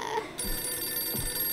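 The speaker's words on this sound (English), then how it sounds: "Phone ring, who it is?" A telephone ringing in the horror game Visage, a short electronic ring with a sustained high tone over a low background hum, heard once and fairly faint.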